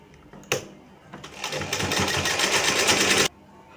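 A sewing machine stitches the hem of a small dress for Kanha ji, starting with a sharp click, then running in a fast, steady whir for about two seconds before stopping abruptly; nearby and clear.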